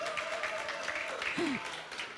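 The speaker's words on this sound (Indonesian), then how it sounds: "Beri tepuk tangan untuk Ebna." A church congregation gives a short round of applause for a child volunteer, soft and fairly distant, with voices talking and a brief tonal sweep mixed in.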